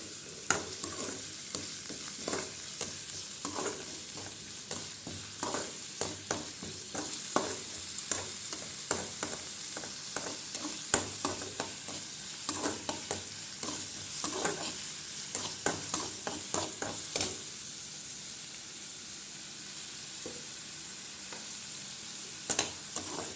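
Crushed ginger and garlic sautéing in a pan for a mushroom gravy, with a steady bright sizzle and frequent scraping stir strokes, close and continuous with no talking.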